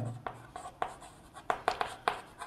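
Pen or pencil writing on paper during a class 5 maths lesson, a series of short scratchy strokes and taps in an uneven rhythm, close by and fairly quiet, with no talking.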